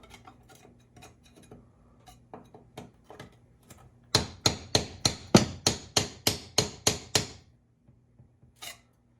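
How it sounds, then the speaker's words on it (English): Sharp hammer strikes on old kitchen backsplash tile: scattered lighter taps, then a run of about ten loud, evenly spaced blows, and one final hit after a pause. "I'm just gonna hit this with a hammer and see what happens"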